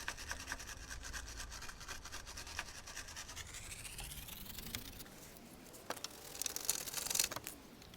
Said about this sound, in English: now that we've cleaned all that up with a wire brush